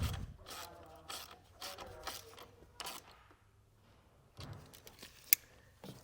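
A hand ratchet tightening a nut back down onto a stud during installation of a Roadmaster 12 volt outlet kit on a 2024 Chevrolet Trax, giving several short, quiet clicking bursts with pauses, then a couple of faint taps.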